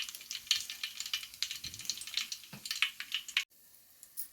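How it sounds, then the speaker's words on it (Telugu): Whole garam masala spices hit hot ghee for bagara rice, giving a light, crackly sizzle with small irregular pops and spits, fairly faint and close, that briefly drops out near the end. "మసాలా దినుసులు వేసేస్తున్నానండి. గరం మసాలా అండి లైట్గా."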